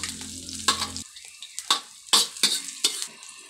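Ginger, garlic and onion dropped into hot oil in a pan, loud bright sizzles in repeated bursts from stirring and clinks of the utensil against the pan.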